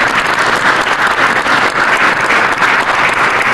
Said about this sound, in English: So nice big round of applause once again for the city.